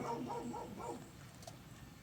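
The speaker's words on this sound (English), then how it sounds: "It's just my crazy dog." A dog gives a few quick, soft yips and whimpering barks in the first second, then the sound fades to quiet room noise.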